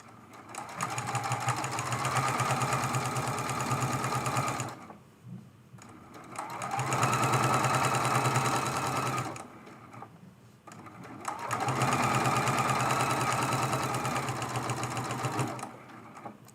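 A sewing machine stitches a quilt-as-you-go fat quarter table runner in three long steady bursts of rapid whirring, each stopping briefly before starting again, close and clear with no talk.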